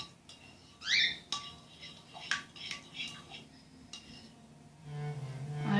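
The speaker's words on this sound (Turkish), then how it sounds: "Karıştırıyorum arkadaşlar." Spoon clinking and scraping against a bowl while stirring a homemade borax slime mixture, a few sharp clinks then softer scraping, close and moderately quiet.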